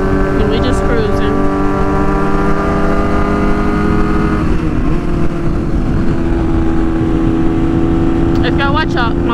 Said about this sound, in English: And I am riding my Gsxr 600.